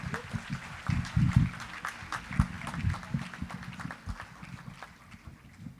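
Crowd applause for a government minister at a youth event in Nigeria, a steady clatter of many hands clapping with a few louder bursts, fairly close and continuous, without talk over it.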